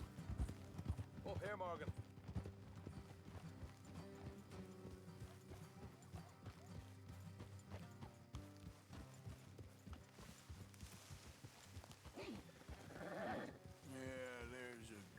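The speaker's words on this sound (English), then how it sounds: "Let's leave the horses here and go the rest on foot." Horses ridden along a road in the video game Red Dead Redemption 2, hooves clip-clopping in a steady rhythm throughout, with occasional animal calls, beneath people talking.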